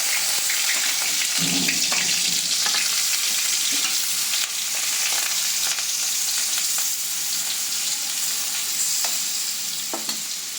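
Paneer pieces fry in a pan with a loud, continuous sizzle, broken by occasional scraping and stirring knocks, with no voices over it.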